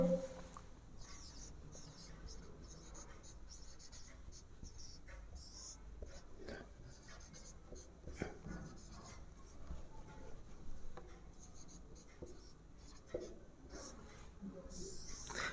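Pen scratching on paper during a Class 10 maths lesson on polynomials, faint and close, in irregular strokes with soft breathing and room noise around it.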